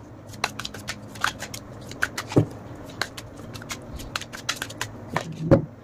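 Tarot cards being shuffled and laid out: crisp riffles and flicks come in irregular bursts, with occasional sharper slaps as cards land on a surface, all close and fairly quiet.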